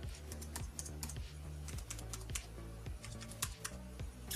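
Rapid typing on a Matias Space Grey RGB wired keyboard for Mac, a steady run of crisp key clicks and clacks at close range with no voices.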